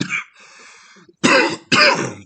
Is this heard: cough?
yes